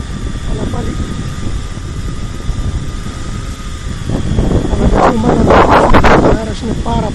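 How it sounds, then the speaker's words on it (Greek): Strong wind buffets the microphone outdoors while drones such as a Tarantula X6 hexacopter fly, a continuous loud rushing roar that swells toward the end, with someone speaking over it. "ο αέρας είναι πάρα πολύ δυνατός."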